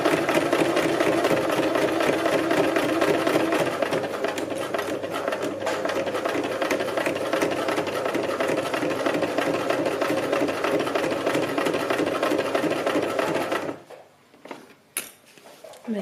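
A domestic sewing machine runs steadily and loudly up close while sewing a fabric bag, a continuous whirring drone that stops near the end, followed by a few small handling clicks.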